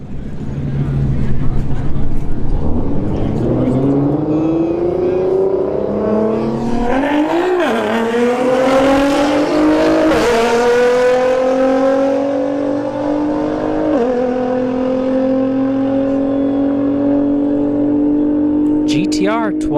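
Nissan GT-R and Hyundai Elantra N launch side by side at a drag strip, engines revving hard and rising in pitch through the gears, a loud sustained roar with a squeal near the start; speech-like announcer noise sits under the engines.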